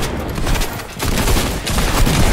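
Dense bursts of rapid gunfire fill a squad match in a video game, loud and nearly continuous, with one brief gap before the shooting resumes.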